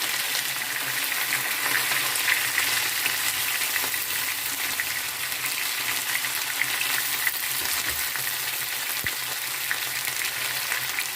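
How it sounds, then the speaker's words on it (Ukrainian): Potatoes fry in an uncovered pan with a continuous, even sizzle of hot oil, close and steady with no talking over it. "Картопля у нас обсмажується."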